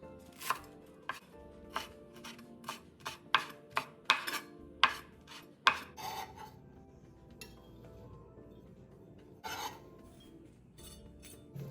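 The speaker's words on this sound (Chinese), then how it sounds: "50克韭菜切成小段" Knife chopping about 50 g of Chinese chives into short pieces on a board: a close, steady run of crisp chops for several seconds, then quieter scraping and rubbing as the chopping stops.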